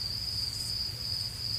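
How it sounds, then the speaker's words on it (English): A steady, high-pitched chirping of crickets runs continuously throughout as a sound effect, with a low hum underneath and no voices. "crickets"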